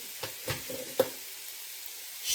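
Chicken browns in a pan with a soft sizzle, broken by a few sharp scrapes of stirring early on before it settles to a quiet, steady fry.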